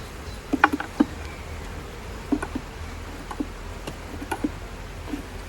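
Honey bees crowd two full boxes of a double-deep hive, a faint steady buzz underneath scattered close ticks and light knocks from the hive woodwork.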